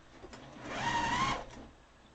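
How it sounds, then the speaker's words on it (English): A sewing machine stitches through a quilt in one short, steady burst that speeds up and then stops, close and moderately quiet with no talking. "I'm actually going to sew that because I don't want to be poked by pins again"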